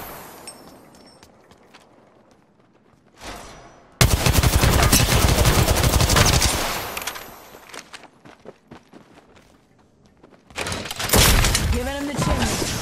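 Automatic gunfire in Apex Legends erupts in a loud sustained burst, then fades to quiet before a second volley with shattering crashes, with voices speaking in between.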